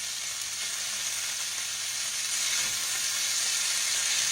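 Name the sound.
chicken drumsticks frying and sizzling in a pan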